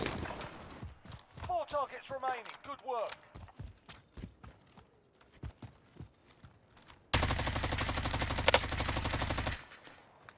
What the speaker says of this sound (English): They're literally shooting at me, bro.